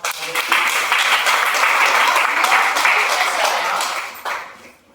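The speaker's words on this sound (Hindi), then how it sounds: "एक जोरदार तालियां।" An audience at a marketing seminar breaks into strong, dense applause, a sustained roar of many hands clapping that swells quickly and then fades near the end.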